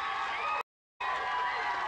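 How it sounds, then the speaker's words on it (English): A game-show studio audience claps and cheers in a loud, dense burst. The sound cuts out briefly and then resumes. "Give them a nice big round of applause."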